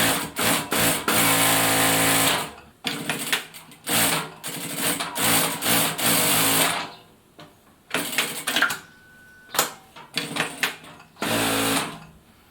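A Siruba DL7200 industrial needle feed sewing machine stitches in loud close bursts of fast rattling hum, starting and stopping repeatedly with an automatic backstitch and thread trimming, separated by brief pauses.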